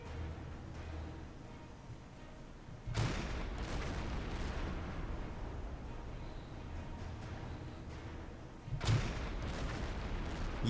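Deck gun on a U-boat in Silent Hunter 5 firing high-explosive shells at shore buildings: two sharp, loud booms roughly six seconds apart, each rising out of a steady rumble of sea and engine noise.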